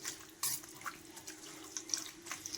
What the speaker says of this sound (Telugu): నేను కూడా కొద్దిగా వాటర్ వేస్తున్నాను.